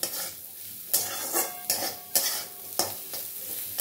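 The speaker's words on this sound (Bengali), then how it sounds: "আর একটু কিছুক্ষণ ভাজা করে আর একটু ভেজে নেবো" Greens with turmeric sizzle softly in a pan while a spatula scrapes and stirs in four or five sharp strokes.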